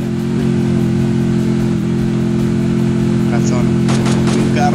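A car engine in the Free Fire battle royale game drones steadily and loudly throughout, with the sustained hum of a vehicle underway and faint blips of game effects near the end.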